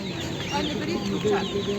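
Domestic chickens cluck and murmur steadily nearby at an Easter market fair, with voices talking faintly in the background.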